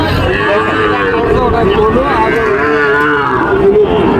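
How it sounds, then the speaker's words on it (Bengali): Two heifers at a cattle market in Panchbibi mooing loudly and close by, long drawn-out lowing calls that rise and fall in pitch over market background noise. "দুটি বকনা গরু দেখতে পাচ্ছেন দর্শক।"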